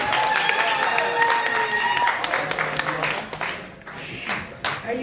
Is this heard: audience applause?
yes